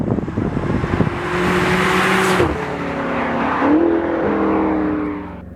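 BMW F10 M5 with a 4.4L twin-turbo V8, heard from inside the car while driven into corners, its engine droning loudly, climbing and dropping in pitch through gear changes, with a brief whoosh midway.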